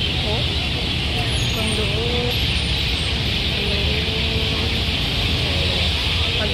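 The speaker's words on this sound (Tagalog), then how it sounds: "Makikita nyo yung grabe yung traffic" Dense, continuous roar of road traffic with engines rumbling up close, broadband hiss and faint voices mixed into the steady din.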